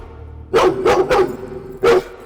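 A dog in a Hindi-dubbed action movie barks four times, loud and close: three quick barks in a row, then a short pause and one more, with no speech over them.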